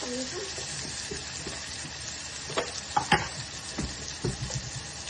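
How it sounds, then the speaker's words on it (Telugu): Onions frying in a pan for vegetable upma make a steady low sizzle, with clustered scraping and clattering stirs of a spoon toward the middle and end. "ఉల్లిపాయలు తొందరగా వేగాలంటే"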